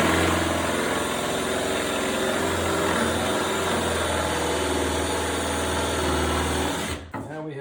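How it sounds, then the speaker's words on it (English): A power drill bores into a salvaged wooden handrail with a half-inch Forstner bit, giving a loud, steady grinding whir that holds for about seven seconds before cutting off abruptly. "I'm going to use a smaller forstner, a ½ inch forstner, and I'm going to take a little more of a bite out of this"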